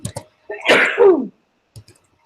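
A single sharp sneeze, preceded and followed by a few faint clicks and breaths.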